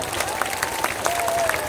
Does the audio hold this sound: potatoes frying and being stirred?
no